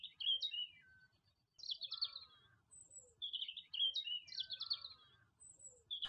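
Birds chirp and warble in trees in an animated forest scene, with bright, quick twittering phrases repeating in a looping pattern, clear and moderately near over a quiet background.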